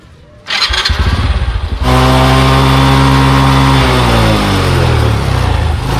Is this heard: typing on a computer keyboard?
no